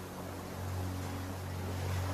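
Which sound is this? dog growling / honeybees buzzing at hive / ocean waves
ocean waves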